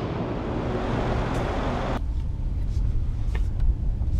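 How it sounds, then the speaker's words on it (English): A 2015 Mercedes-Benz S63 AMG with a 5.5-liter twin-turbo V8 cruises on the road, a steady low engine and tyre rumble with wind noise that drops to a quieter cabin hum partway through. "So let's drive the new S63 and see how this big tank feels on the road."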